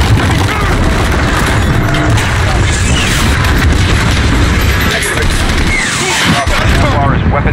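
Missile strike explosion in Call of Duty: Modern Warfare, a loud sustained roar of blast and rumbling debris amid continuous combat noise, with voices talking over it.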